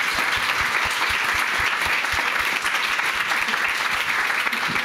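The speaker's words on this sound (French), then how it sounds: "J'aimerais qu'on puisse les applaudir." Audience at an intimate talk session applauds the guests, a continuous dense round of clapping with a few sharp nearby claps standing out, steady and even from start to finish.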